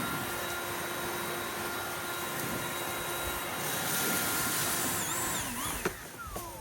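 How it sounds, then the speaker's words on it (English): A Milwaukee M18 cordless leaf blower blows leaves off a four-wheeler outdoors, giving a continuous loud whooshing roar with a high motor whine that swells and dips slightly as it is aimed around. "show me how you blow the leaves off your 4-wheeler"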